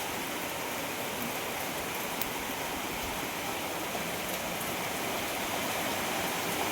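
Steady rain falls on a village in Uttarakhand, a continuous even patter and hiss of drops on surfaces that holds at the same level throughout without a break.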